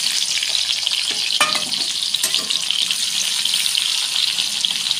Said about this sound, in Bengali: এবার পেঁয়াজ কাঁচা লঙ্কা দিয়ে দেবো।